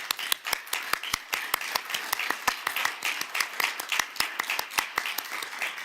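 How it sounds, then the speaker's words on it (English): A conference audience claps for a panel, a steady patter of many hands with sharp individual claps standing out, moderately loud and continuous. "with a big applause to my panelists"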